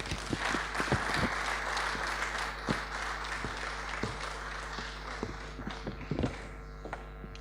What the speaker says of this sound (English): another wonderful round of applause